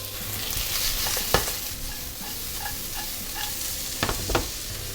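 Onion sizzles in hot rendered lard from smoked bacon in a single pan, with steady frying hiss broken by a few sharp clinks and scrapes of a utensil stirring against the pan.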